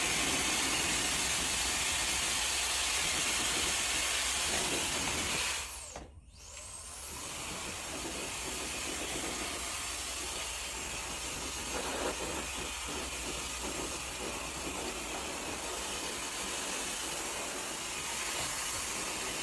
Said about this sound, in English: I'm blow drying it like this.